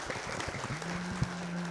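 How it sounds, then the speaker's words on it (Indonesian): An audience at a Ramadan event in Bandung claps in a steady, moderately loud burst of applause, with a faint sustained hum running underneath. "Silahkan tepuk tangan untuk Ramadan on TV."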